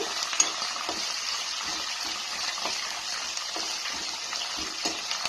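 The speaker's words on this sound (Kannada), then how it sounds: "ಅದನ್ನು ಬಂದು ಇವಾಗ ಫ್ರೈ ಮಾಡ್ಕೊಳ್ಳೋಣ." Curry leaves and other ingredients for a quick instant breakfast fry in a pan with a soft, continuous sizzle, punctuated by occasional light stirring taps; fairly quiet and without talking.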